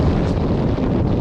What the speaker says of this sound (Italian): c'è il vento